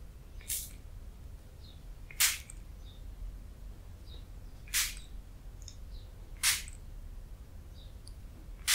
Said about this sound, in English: And so I'm going to spray this.